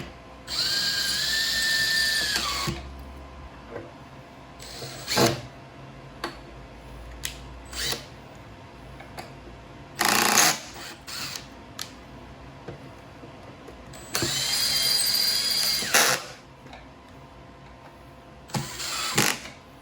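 A power drill drives screws back in while a Jeep Wrangler JK tail light is reinstalled, giving several short whirring bursts with quiet gaps between them, close and without talking.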